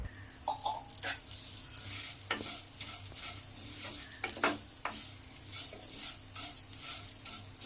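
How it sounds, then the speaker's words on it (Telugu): Vermicelli fries in hot ghee in a kadai while a spoon keeps stirring it: a steady close sizzle broken by frequent scraping and tapping strokes against the pan, with no voices. "అదే కళాయిలో 4 స్పూన్లు నెయ్యి వేసుకోవాలి. నెయ్యి వేడెక్కినాక పావు కిలో సేమియా వేసి వేపుకోవాలి."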